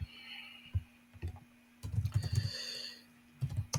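A computer keyboard typed in short bursts of quick, close clicks, with a scattered few keystrokes first, then a denser run and a final cluster, over a faint hum.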